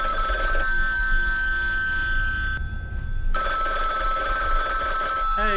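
A telephone in the horror game Bloodwash rings insistently with a steady electronic bell tone that briefly cuts out, then resumes loud and close.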